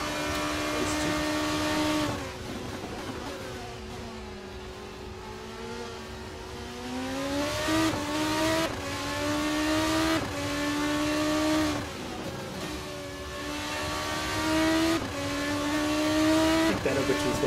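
Race cars battling at Monza in a sim racing video game, engines screaming through repeated upshifts and downshifts, several cars close together, with rising and falling revs and brief tire squeal.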